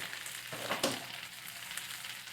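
Spinach wilting in a hot pan during a beef breakfast scramble gives a steady, soft sizzle, with a brief louder burst of crackle as the leaves are pushed down against the pan.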